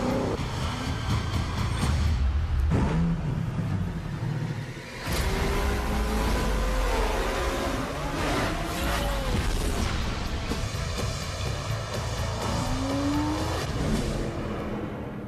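Racing car in a video game driving at about 230 miles an hour, a loud continuous engine roar with rising pitch sweeps and brief tire squeals, with a short dip near five seconds before the roar resumes.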